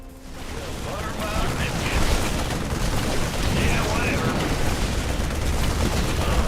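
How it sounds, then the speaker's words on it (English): Explosions rumble through a StarCraft 2 base as it is flanked, a dense, continuous roar of blasts and gunfire that swells after the first second and holds loud to the end. "Those explosions you hear"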